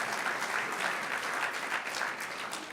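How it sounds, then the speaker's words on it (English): An audience at an award dinner breaks into sustained applause, a dense wash of many hands clapping at moderate distance, even and continuous. "So, round of applause for Providence."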